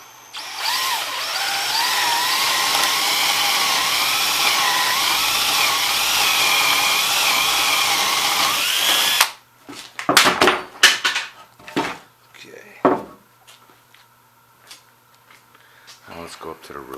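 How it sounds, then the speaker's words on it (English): A power drill whines loudly for about nine seconds, its pitch shifting as it bores a hole while building a chain hoist, then stops, followed by clanks and handling noises. "Go ahead and drill."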